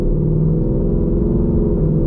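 A 2020 Mustang GT V8 with a 10-speed automatic and an E85 tune hums at a steady, loud, low engine drone from inside the cabin, with no distinct gear change standing out.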